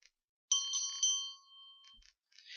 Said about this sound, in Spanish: serán señalados con el sonido de una campana al iniciarse y terminar